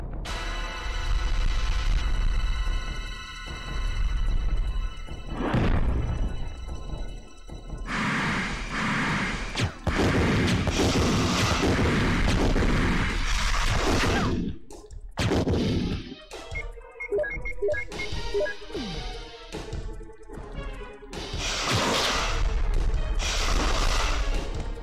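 Gunfire in Resident Evil 1 during a fight with a giant snake: several loud blasts burst out at intervals amid game music and effects.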